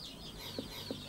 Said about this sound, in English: Their most valuable possessions are a few pigs and chickens,